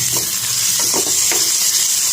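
Onions and tomatoes fry in oil in a pan with a steady, hissing sizzle, broken by a few soft stirring scrapes, close and without speech.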